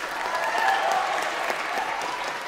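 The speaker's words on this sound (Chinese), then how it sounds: "让我们再给两位一次热烈的掌声" A crowd gives warm, steady applause for two contestants after a piano battle, a dense even wash of clapping filling the whole stretch at moderate distance, with faint voices underneath.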